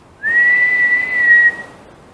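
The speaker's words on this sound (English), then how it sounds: "what a whistling sound" A single clear, sustained whistle held at one steady pitch for just over a second, loud and close, with no other sound.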